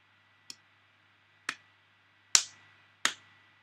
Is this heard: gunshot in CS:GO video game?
no